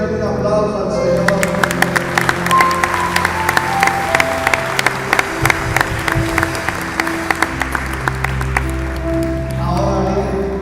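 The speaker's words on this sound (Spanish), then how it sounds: "darle un aplauso al Señor" Church congregation applauding during a sermon, loud, dense clapping with sharp individual claps over sustained organ-like tones and background voices, building for several seconds and continuing to the end.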